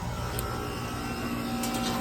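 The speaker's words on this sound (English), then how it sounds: "but that sound is the compressor inside" An AC unit compressor hums steadily while the fan motor stays off, a low continuous mechanical drone with a faint whine, even and unbroken, no talking.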